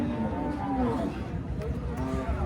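A Friesian cow with her calf lets out drawn-out, moderately loud moos at a busy cattle market, amid steady crowd noise.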